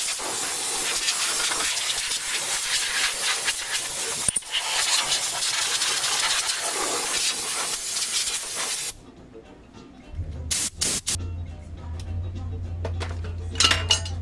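Compressed air blowing out the engine bay of a 2002 Ford Mustang GT, a loud close continuous hiss for about nine seconds, then a lower hum with short sharp air bursts.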